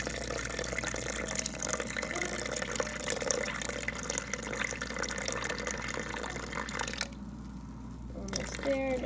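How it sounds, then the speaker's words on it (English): Water pours into a sourdough mix of flour and starter, a faint continuous trickling and splashing that stops abruptly near the end, followed by soft wet handling noises. "Now I'm going to add my water."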